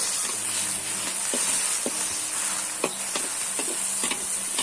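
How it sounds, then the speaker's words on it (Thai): Beef with basil, eggplant and light soy sauce stir-fried in a wok sizzles steadily up close, with a spatula scraping and tapping the pan every second or so, no voices. "อย่างนั้นแหละผัดอย่างนั้นแหละ ค่อยๆผัดไปนะครับ"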